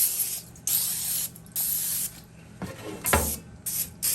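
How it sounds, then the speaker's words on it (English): Several short bursts of hissing spray from an aerosol can of canola oil onto chicken wings, close by, separated by brief pauses, with a few light clatters near the end. "I'm going to just spray it with this canola oil."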